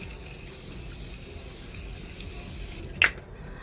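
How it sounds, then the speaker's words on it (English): A steady fine mist of Avène thermal water hisses continuously up close as it is sprayed on a face, with a brief louder puff of spray near the end before it stops. "So I would spray"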